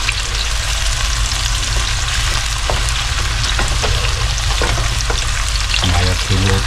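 Food frying steadily in hot cooking oil while homemade buro is prepared, a loud continuous sizzle with occasional stirring scrapes and clinks near the end, no talking.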